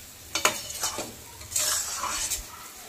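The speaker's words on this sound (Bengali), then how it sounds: "আরও 1 থেকে 2 মিনিট ভালো করে কষে নেব" Masala spices for Rui fish kalia stir-fried in a pan, with a spatula scraping and stirring in a few distinct bursts over a soft sizzle, close and fairly loud.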